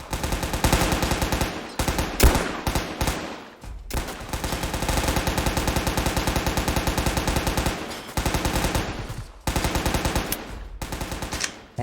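RPK light machine gun in a Soviet soldier video game, firing long sustained automatic bursts broken by brief pauses, loud and close with no talking.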